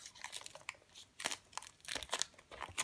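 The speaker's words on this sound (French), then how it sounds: "j'ai préalablement fait un petit trou avec un compas histoire de pas galérer pendant 10 minutes à enlever le plastique" Plastic wrap being torn and peeled off an Apple AirPods box, close up, with crisp crinkling and crackling bursts in an irregular run, louder toward the end.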